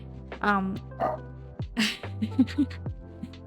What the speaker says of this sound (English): you can hear a dog in the background.